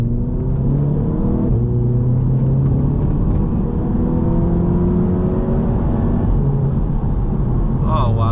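A tuned Mk3 Audi TT accelerates hard, heard from inside the cabin, a loud low rumble rising in pitch through several gear changes.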